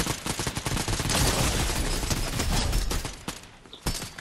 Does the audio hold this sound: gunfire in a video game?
yes